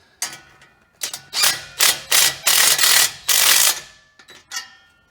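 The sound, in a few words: tightening muffler clamp with a driver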